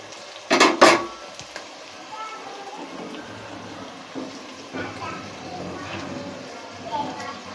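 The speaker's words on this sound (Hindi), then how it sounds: "प्याज को अच्छी तरह चलाएं।" Onions stirred in a pot for chicken korma, with two loud metallic clatters of a spoon against the pot near the start, then quieter scraping and light sizzling while a voice talks over it.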